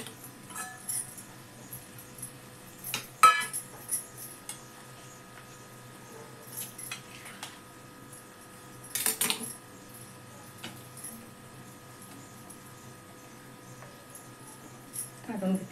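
A knife slicing vadi into thin pieces on a hard surface, with scattered light clicks and a few sharper clinking taps, close and fairly quiet, over a faint steady hum.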